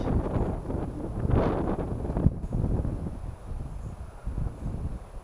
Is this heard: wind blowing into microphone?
yes